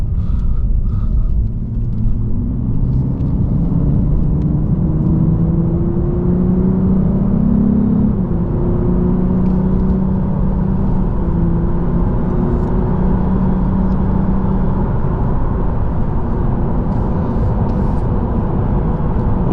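A 2022 Lexus RC350 F Sport engine drones steadily from inside the cabin at night, its pitch rising and falling gently over a constant road rumble, with no talking.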